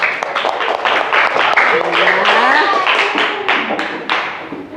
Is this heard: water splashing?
no